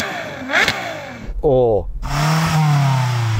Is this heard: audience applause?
no